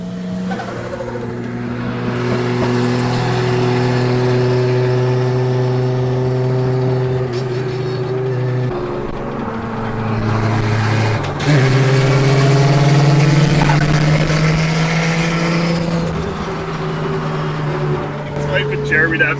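A Nissan C34 Stagea with a turbocharged RB25DET engine runs hard on a race track. The engine drones loud and close throughout, pitch climbing through gears with shifts and a brief dip, while people talk over it.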